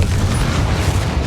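Confringo explosive spell cast in the video game Hogwarts Legacy, a short loud booming blast with heavy low rumble lasting about a second, no voices over it.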